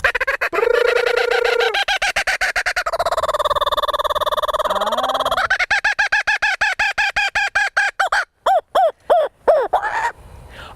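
Stevie, a small pet bird, sings a long run of warbling calls, whistled tones and rapid chirps, close and clear, with no talking over it.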